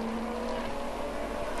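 A touring race car passes during a motor race, a steady engine drone with tonal whine heard fairly faintly at a distance, no talk over it.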